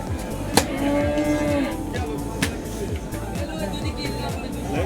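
A cow lets out a deep, drawn-out moo close by at a cattle market, while people chatter in the background.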